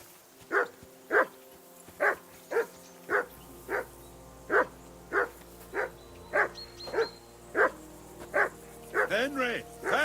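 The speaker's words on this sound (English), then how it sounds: "Call off that mutt of yours!" A dog in the medieval video game Kingdom Come: Deliverance II barks repeatedly at a steady pace for ten seconds, mid-distance and clear, with a low ambient bed and yelps near the end.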